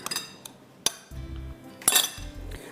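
Batter is mixed in a dish, with a few sharp clinks and scrapes of a utensil against the bowl, interrupted by short low buzzing hums.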